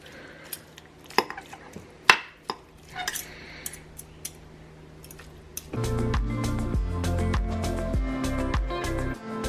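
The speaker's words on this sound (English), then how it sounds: "We're just gonna shred and stir." Slow-cooked boneless, skinless meat shredded and stirred in a crockpot, with sharp utensil clacks and scrapes against the pot, then a steady louder mashing and stirring rumble that runs to the end.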